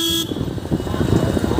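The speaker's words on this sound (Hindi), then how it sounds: "हम अभी ट्रैफिक चौक पे आ चुके हैं, बहुत ज़्यादा क्राउड है" Busy traffic intersection crowd in Begusarai, with a car horn blaring loud and close at the start, then dense rumbling vehicle and crowd noise.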